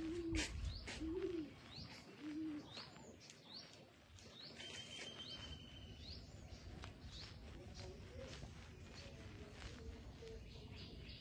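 Pet pigeons in a loft coo softly in short low phrases near the start, with chirps, faint wing flutters and busy background bird noise throughout.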